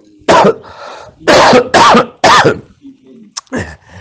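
Several loud, close coughs in quick bursts, with throat clearing between them and a short vocal sound near the end.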